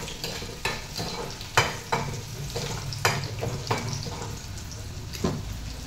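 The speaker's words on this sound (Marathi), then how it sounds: "लसूण चांगलं तांबूस कलर येईपर्यंत कधी परतू द्या." Crushed garlic and green chillies fry in a pan with a constant close sizzle. A spatula stirs and scrapes them, making repeated sharp knocks against the pan, and no voices are heard.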